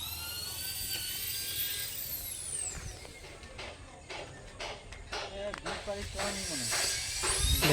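A polishing machine whines and hisses in a workshop alongside other work, its high pitch sliding up and down against a rumbling background, while someone talks over it.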